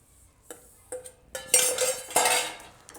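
A mixed millet chikki mixture being stirred in a pan over low heat, the spoon scraping and clinking against the metal in a few irregular, close strokes with short pauses between them.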